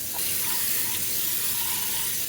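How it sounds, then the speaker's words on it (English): A collapsible microwave cover held under a running kitchen tap, water hissing and spraying steadily against it throughout, close and fairly loud, with no talking. "let's put it underwater"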